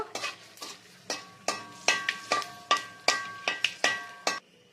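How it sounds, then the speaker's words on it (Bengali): Bay leaf, dried chilli, garam masala and cumin stirred in hot oil, a series of about a dozen distinct scraping clinks of a spoon against the pan, each followed by a brief sizzle, close and clear. "তেজপাতা, শুকনো লঙ্কা, আর এখানে আছে গরম মশলা আর জিরে। একটু নাড়াচাড়া করে নেব।"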